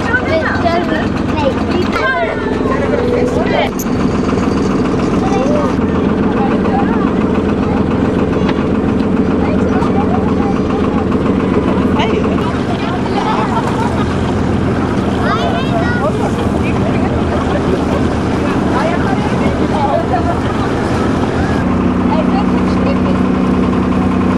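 The small boat Ásdís runs its engine at sea, a steady low motor drone throughout with wind buffeting the microphone and people talking over it.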